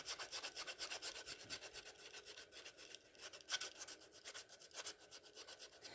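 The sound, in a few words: filing and sanding a wooden edge with a file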